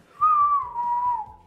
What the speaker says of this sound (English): I made a whistling sound and I didn't suck in.